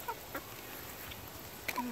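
Leghorn hens peck at treats and give a few soft, scattered clucks and chirps at low level over a faint outdoor background, with no talk.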